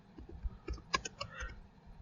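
Light typing on a computer keyboard, a quick run of soft, irregular key clicks close to the microphone, fairly quiet with no talking.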